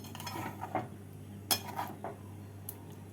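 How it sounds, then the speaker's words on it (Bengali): A metal spoon clinks and scrapes against a pan while egg kofta curry is stirred with ghee and garam masala, giving a few sharp, scattered clinks over a low steady hum. "এক স্পুন ঘি ঘি আর গরম মশলা গুঁড়ো দিয়ে নাড়াচাড়া করে"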